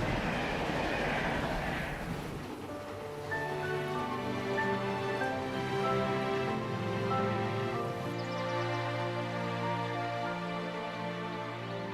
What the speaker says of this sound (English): the locomotive speeds past him